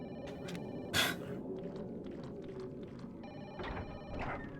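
A telephone in a video game rings in short electronic bursts, one early and another near the end, with a quiet background between them.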